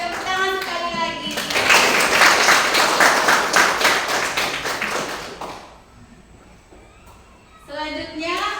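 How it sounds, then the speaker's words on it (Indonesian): Hands clap in a burst of applause from a small group in a classroom, lasting several seconds and then fading out, with talking before and after. "Ya, tepuk tangan sekali lagi."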